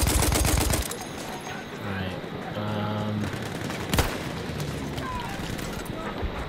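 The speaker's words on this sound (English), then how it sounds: "Oh, that's a grenade." A grenade explosion during heavy gunfire in Battlefield 1: a dense fusillade of shots opens loudly, then battle noise continues with a sharp blast near the middle, and a voice talks over it.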